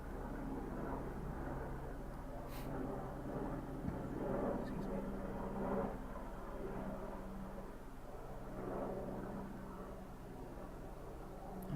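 A fixed-wing airplane passing overhead outdoors, a broad steady roar lasting throughout, with a person talking over it.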